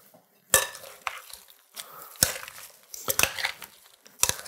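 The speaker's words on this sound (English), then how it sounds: "we're gonna mix this all up" A cucumber salad with thinly sliced red onion being tossed in a bowl, with bursts of utensils clinking and scraping against the dish at an uneven rhythm and short pauses between strokes, close up and without speech.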